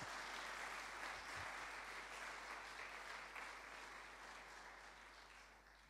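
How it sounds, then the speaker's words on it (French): Church congregation claps warmly for volunteers in a sustained, evenly textured round of applause that gradually fades, heard at a distance and fairly quietly. "Et on peut les applaudir bien, bien fort."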